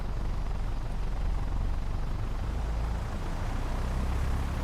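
A Just Flight Tomahawk light aircraft running up its engine in Microsoft Flight Simulator, a steady droning propeller roar that holds at a constant level throughout, heard alone with no talking.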